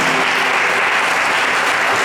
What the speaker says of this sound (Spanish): Denle un buen aplauso a la palabra del Señor.